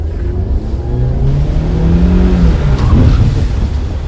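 An MPV braking hard on a slippery wet road, its engine note and tyre noise rising and surging close by for several seconds, with no talk over it.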